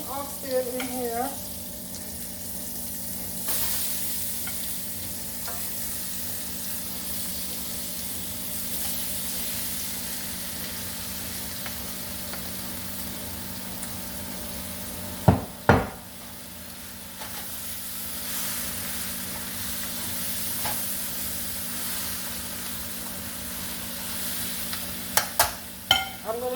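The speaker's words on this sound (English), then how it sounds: "Just add our curry seasoned oxtail in here." Curry-seasoned oxtail sizzling and frying in a pot with no liquid, a steady hiss with occasional clanks of stirring spoon against metal, no voices heard.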